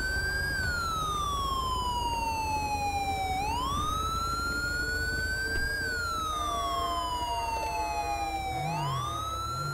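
Police car siren in Grand Theft Auto V, a loud continuous electronic wail sweeping slowly up and down in long cycles, close and steady throughout with a low engine rumble beneath.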